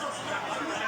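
A crowd of RCB cricket fans on a Bengaluru street ahead of the IPL 2025 final makes a dense, close babble of many overlapping voices, steady and unbroken.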